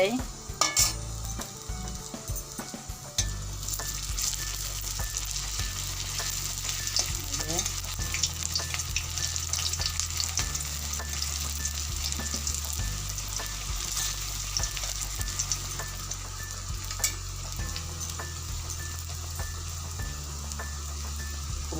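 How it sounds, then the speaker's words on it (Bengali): Vegetarian pumpkin-and-flour 'eggs' sizzle steadily in a pan, a continuous frying hiss with occasional scrapes and clinks of a spatula against metal, close and fairly loud throughout. "ডিম ভাজা হচ্ছে"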